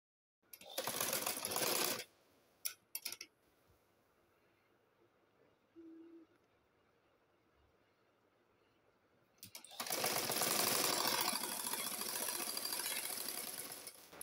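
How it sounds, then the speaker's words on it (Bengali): A sewing machine stitches fabric ties for a kurti in two loud bursts, a short run near the start and a longer steady one at the end, with quiet handling and a few brief taps between them. "এখন আমি যে বান্ধনের ফিতাডি সেলাই করে নিব।"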